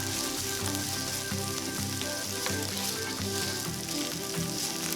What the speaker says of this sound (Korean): 그 다음 프라이팬에 올리브유를 두르고 마늘과 양파를 넣고 한번 볶아줍니다